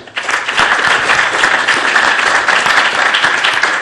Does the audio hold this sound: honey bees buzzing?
no